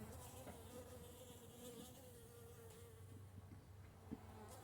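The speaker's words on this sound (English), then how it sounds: "It's not a bee, it's a yellow jacket." A yellow jacket wasp buzzing indoors, a faint continuous droning hum that wavers slightly in pitch over quiet room tone, with no talking.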